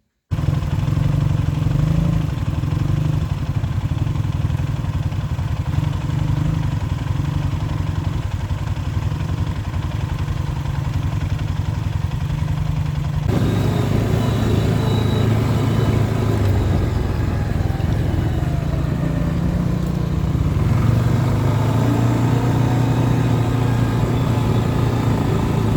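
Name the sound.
motorcycle engine and exhaust running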